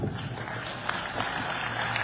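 A crowd honoring the President gives dense, continuous applause, a steady wash of many hands clapping at once, loud and sustained without pauses.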